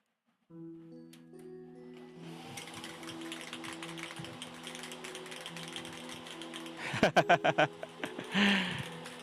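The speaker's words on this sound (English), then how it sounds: "So you need to shake it for a long time because you want to make sure that everything's mixed." A can of spray paint is shaken hard by hand, its mixing ball rattling in a quick run of sharp, close clacks after a stretch of steadier mechanical clatter and hum.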